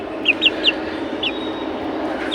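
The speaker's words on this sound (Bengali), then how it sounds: "4টে মোরগ আছে, 6টা হচ্ছে ডিকি মুরগি।" Young chickens about a month old, four roosters and six hens, kept in a pen on a rooftop, give a few short, high clucks in a quick run of four, spaced over a steady low background hum.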